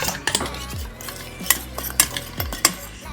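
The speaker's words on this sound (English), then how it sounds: "Just gonna mix that in." Butter stirred into a rich, fatty dish with a utensil, several distinct clinks and scrapes against the bowl in an uneven rhythm, close and fairly quiet with no talking.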